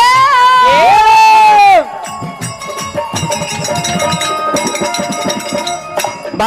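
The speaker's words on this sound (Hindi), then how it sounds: "एक बार जोरदार ताली हो जाए।" A village audience at a bhagait devotional song performance breaks into a loud, rising whoop, then lively cheering and clapping with children shouting, close and boisterous throughout.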